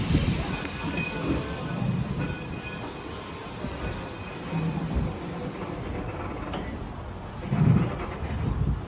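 Detroit & Lima Northern No.7 steam locomotive pulling out of Smith Creek station, a steady rumbling roll of railcars with faint clicks and hiss, swelling now and then in low chuffs.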